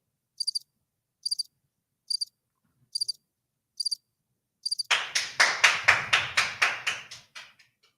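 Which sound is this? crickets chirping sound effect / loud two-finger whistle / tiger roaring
crickets chirping sound effect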